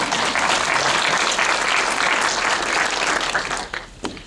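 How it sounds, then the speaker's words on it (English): Audience at a community gathering giving a loud, sustained round of applause, thick continuous clapping that tapers off over the last second. "Another big round of applause."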